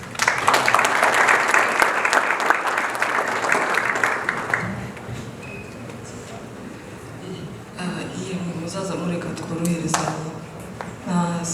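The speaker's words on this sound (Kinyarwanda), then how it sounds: "Nasabye ko nta gukoma amashyi sinzi impamvu mukiri gukoma amashyi" An audience at a survivors' testimony gathering breaks into dense, loud applause for about four seconds, then the clapping thins and fades while a voice speaks over the dwindling claps.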